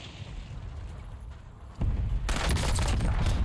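Pistol fire in the video game Warzone starts after a quiet stretch as a sudden loud burst, followed by a sustained barrage of rapid close shots to the end.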